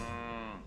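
A single short, sustained cow moo from the video game Wobbly Life, close and clear with no talk.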